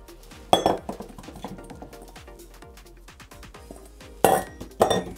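Vegetables being added to a casserole dish for oven baking, giving close clinks and clatters of utensil against dish with a few sharper ringing knocks, quiet between the hits.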